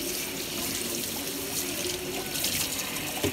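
Pump parts rinsed under a running kitchen tap, a steady broadband rush of water splashing into a sink with small shifts as the parts move through the stream, close and continuous with no talking.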